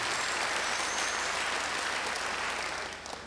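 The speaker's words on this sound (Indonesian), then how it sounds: "Beri tepuk tangan bagi dia." A church congregation applauds together, a dense, steady clapping that fills the room for a few seconds before starting to thin out at the end.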